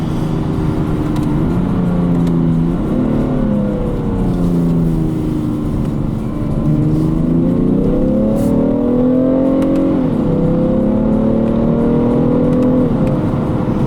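A loud diesel engine in a 2017 BMW 335d M Sport drones steadily from inside the cabin, its pitch rising and falling through gear changes as it accelerates.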